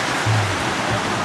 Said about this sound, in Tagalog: Buhos yung ulan, no?